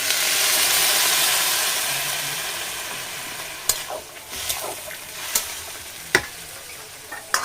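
A little water poured into spiced fish frying in a pan bursts into a loud steamy hiss that slowly fades, followed by a few sharp clatters of stirring against the pan.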